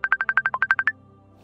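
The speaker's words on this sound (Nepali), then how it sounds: "कसको फोन आयो फेरि" An incoming-call ringtone on a phone plays a quick electronic melody of about eleven short, evenly spaced beeps, close and clear, then cuts off into quiet.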